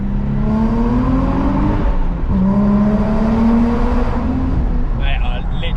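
Naturally aspirated Nissan Skyline 350GT engine revving freely, a loud, close drone rising and falling in pitch across several pulls, with voices talking over it near the end.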